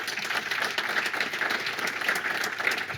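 An audience at a round-table event on energy renovation at a Lille campus applauds, a dense, steady patter of many hands clapping at moderate volume for the full length.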